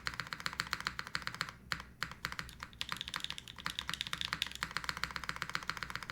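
Fast, continuous typing on a mechanical keyboard fitted with ABS keycaps, a dense stream of crisp, close clacks with short pauses, heard alone.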